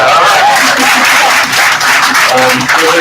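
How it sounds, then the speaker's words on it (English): Audience applause at a Pleasant Ridge Community Council meeting, a loud, close, continuous patter of many hands with some voices mixed in. "give Pleasant Ridge a round of applause for that"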